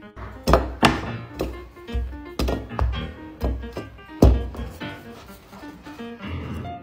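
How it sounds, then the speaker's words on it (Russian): A knife slicing bread on a cutting board, heavy thunking strokes repeated in an irregular rhythm, close and fairly loud. "Как режут хлеб в семье?"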